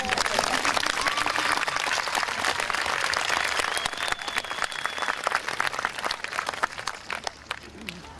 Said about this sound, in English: You guys can clap for them.